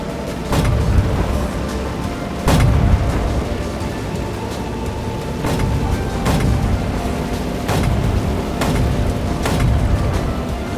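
A 75mm gun vehicle in the video game War Tycoon fires about six deep booms, spaced a second or two apart, over a steady background rumble.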